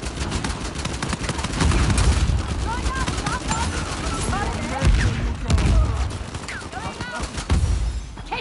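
Gunfire in the video game Uncharted 4 during an online match, a dense continuous rattle of shots and impacts running under excited talk from the players.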